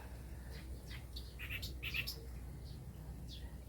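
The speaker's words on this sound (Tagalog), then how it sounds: "Dami ditong ibon, promise." Several small birds chirp and tweet in short bursts among banana trees, faint and somewhat distant over a low outdoor rumble.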